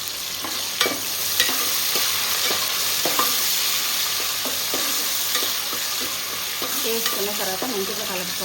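Onions fry in a hot pan with a broad steady sizzle while a utensil stirs and scrapes in irregular taps and clicks, close and moderately loud, with no talk.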